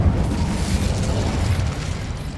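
Incendio fire spell cast in Hogwarts Legacy, a loud continuous roaring burst of flame that fills the whole moment with dense rumbling energy, alone without talk.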